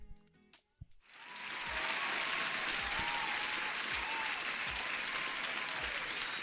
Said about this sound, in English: Huge applause for Lafta.